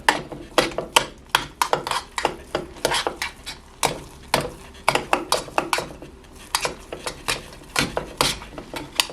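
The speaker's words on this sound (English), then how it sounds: "I'm actually supposed to stir this pretty vigorously because I need to smooth it out." A spoon vigorously stirs and beats thick cream puff dough in a metal pot, giving rapid, uneven scraping and clanking strokes that come close together and fairly loud.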